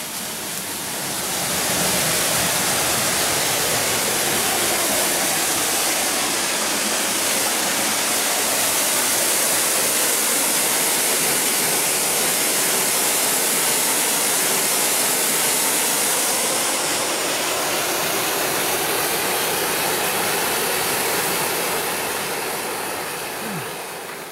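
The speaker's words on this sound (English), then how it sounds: "It's the other side of the waterfall." A waterfall heard from behind it on a Virginia hiking trail, a loud continuous roaring rush of falling water filling the whole stretch with a steady broadband hiss.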